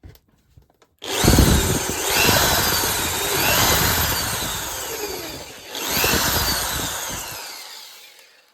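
A power drill boring into model railway electrofrog points, whirring loudly in two long passes with a brief pause between, the bit grinding and winding up through the material before spinning down.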